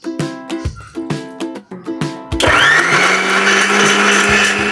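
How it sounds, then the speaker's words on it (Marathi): A mixer grinder blends roasted onion, garlic, ginger, chili, tomato and whole spices with a little water. It starts with several short pulsed bursts, then settles into a loud, steady, close-up whirring grind. "हे आपण भाजून घेतलेलं थोडंसं कांदा, लसूण, आलं, मिरची, टॅमॅटो आणि खडे मसाला हे मिक्सरला लावूया"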